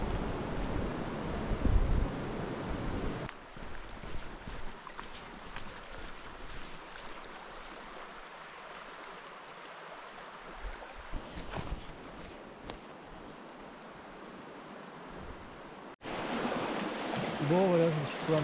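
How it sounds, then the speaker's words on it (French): A river rushes steadily beside a hiking rest spot near Tonquédec, a broad close wash of flowing water, with wind buffeting the microphone and someone talking briefly at the start and end. "Je sais pas si on m'entend avec la rivière."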